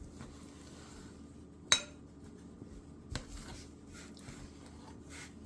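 Flour and milk biscuit dough being stirred in a cup, one sharp clink of utensil on cup followed by a softer knock and faint scraping, quiet and close with no voices.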